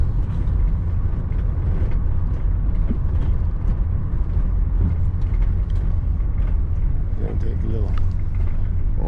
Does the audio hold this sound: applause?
no